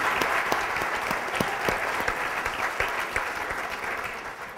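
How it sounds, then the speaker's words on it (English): Audience applause for speakers and honorees at a journalism recognition event, a steady wash of clapping with a few sharper individual claps standing out, moderately loud and sustained throughout. "please give them a round of applause."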